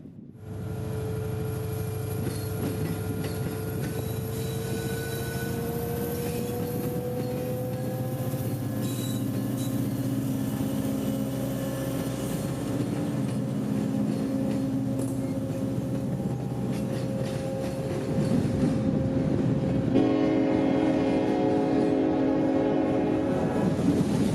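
Norfolk Southern freight train rolling past in central Georgia with a steady rumble of cars and wheels, a sustained horn tone throughout and a louder, brighter blast near the end.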